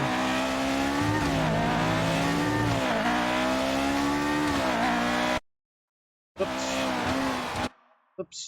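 An older Formula 1 car in the F1 2019 racing game at Shanghai International Circuit screams at high revs with rising and falling engine pitch and tire squeal, loud and continuous, then cuts out abruptly and briefly returns.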